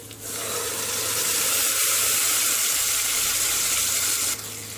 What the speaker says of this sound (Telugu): వాటర్ అంతా వంపేసి పప్పు దీంతో వేసుకోవాలి.